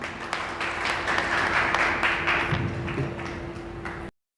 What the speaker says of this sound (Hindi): जोरदार तालियों से स्वागत करें सर